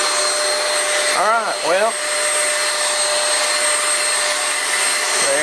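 A vacuum cleaner with a clogged filter roars loud and steady from start to finish, its pitch dipping briefly as it moves, while someone talks over it.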